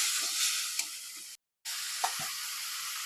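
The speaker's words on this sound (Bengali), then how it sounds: "এবার আমি কলা ভাজাগুলা আর আলু ভাজাগুলা দিয়ে দেবো। ওটা কষে নেবো, এবার ভালো করে কষে নেবো।" Fried raw banana (kachkola) and fried potato are stirred in a pan of frying masala. A constant, close sizzle is broken by a few spatula scrapes and a brief silent gap, with no voices.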